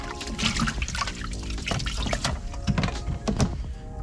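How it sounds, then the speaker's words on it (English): Water drips and splashes off a wet towel in quick irregular patters, close by, with some liquid pouring noises mixed in. "So y'all can see how it's dripping water off."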